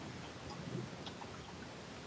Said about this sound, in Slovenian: Ko smo začeli snemati, je bilo še lepo vreme, zdaj pa že dežuje.